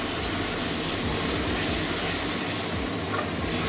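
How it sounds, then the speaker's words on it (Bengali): Spice paste cooking down with water in a pan for a potato, pointed gourd and soybean curry, giving a steady, dense sizzle and bubbling hiss that runs evenly throughout. "এবারে মশলার মধ্যে জল ঢেলে দিচ্ছি জল দিয়ে কষিয়ে নেব মশলাটা"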